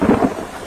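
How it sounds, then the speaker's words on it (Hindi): A brief rumble of thunder rolls over steady heavy rain during a strong storm, loud at first and then fading. "बारिश और तूफान इतना तेज था"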